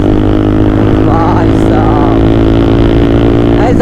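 Motorcycles speed along on a group bike ride, among them a powerful RS bike: a loud, steady engine drone with wind rush, close up and unbroken, with a voice faintly under it.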